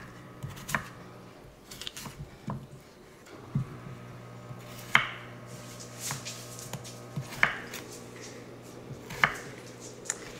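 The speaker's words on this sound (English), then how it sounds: "we're going to start by cutting up these potatoes into like bite-sized kind of chunks" Potatoes being cut into bite-sized chunks on a board give a sparse, irregular series of faint knife knocks, some sharper than others, scattered across a quiet kitchen with no talking.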